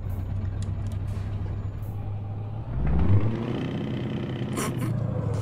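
A Scania R520 truck pulling a 24-metre drawbar trailer in Euro Truck Simulator 2 spins its wheels in first gear on full throttle, a steady low engine rumble that swells into a louder surging roar partway through.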